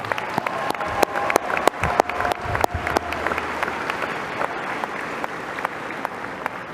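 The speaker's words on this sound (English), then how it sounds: "Give him a round of applause." A graduation crowd applauds, with sharp individual claps close by at first and then a fuller, even clapping that carries on for several seconds under a faint murmur.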